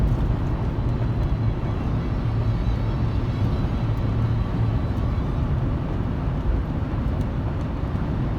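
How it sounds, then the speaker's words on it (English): Constant low road roar and tire drone fill the cabin of a 2000-2005 Buick LeSabre cruising on the interstate, steady and even throughout with no talking. "The road noise isn't that bad, I will say."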